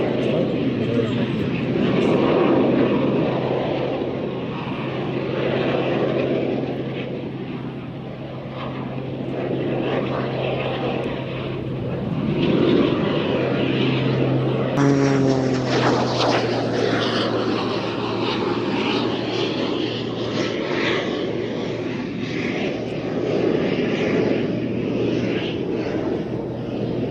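A display aircraft at an evening airshow drones steadily with its propeller engine while its smoke system runs, the engine note sweeping in pitch as it passes midway, with a commentator talking over it.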